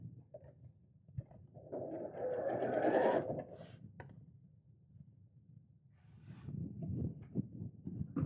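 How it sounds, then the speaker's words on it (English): A home sewing machine stitches back over an existing seam on a fabric purse organiser craft bag, running in a steady burst of mechanical whirring at close range, then easing off into quieter handling of the fabric. "then we'll sew over the same stitch line"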